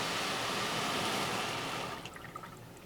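Spot-free rinse spraying water over a car inside an automatic car wash, a steady hissing spray that fades after two seconds into scattered drips and trickles.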